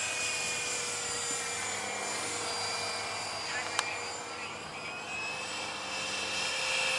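An electric ducted fan RC Vampire jet flies at about half throttle, its steady whooshing whine holding at even loudness through the whole stretch, the motor's tone shifting slightly as it passes.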